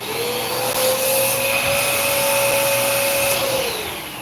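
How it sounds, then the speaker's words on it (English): A vacuum runs steadily and loud to suck leftover paint out of the eye of a painted fishing jighead, giving a continuous whine with a high tone that holds and then drops away near the end, with no voices. "Use this vacuum."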